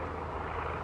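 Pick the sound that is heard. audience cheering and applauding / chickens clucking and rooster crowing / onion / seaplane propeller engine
seaplane propeller engine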